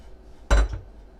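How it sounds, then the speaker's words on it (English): A metal muffin pan of blueberry muffins slides into a 375-degree oven, a single close clunk of metal against the rack with a short ringing rattle, no talk. "In the oven they go at 375."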